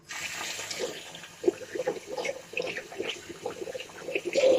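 Tap water runs steadily into a sink during a wet shave with Palmolive menthol shaving cream, a close, continuous splashing flow with small gurgles and no talking.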